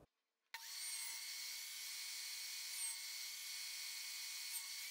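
A table saw makes a test cut in wood for a dovetail joint: after a brief quiet start, a sharp onset leads into a loud, sustained high whine that holds steady to the end, with no voices.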